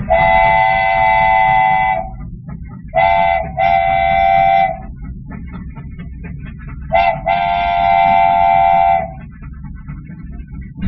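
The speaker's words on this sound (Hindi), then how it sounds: "ट्रेन तो रिवर्स हो रही है, इसका मतलब नैना और गोलू मिल जाएंगे।" A toy-play scene of a train reversing: rail rumble runs throughout beneath loud, sustained horn-like whistle blasts, one long, a short pair, then another long blast, with no talk.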